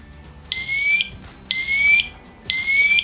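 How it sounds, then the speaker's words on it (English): A smoke detector on test sounds three loud, evenly spaced shrill beeps, each lasting about half a second, close by with no talk over them. "You will hear the smoke detector give the alarm."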